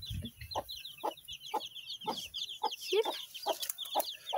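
A hen clucks in short, evenly spaced calls while tiny newborn chicks peep high and continuously around her, close by; one brief spoken word is heard.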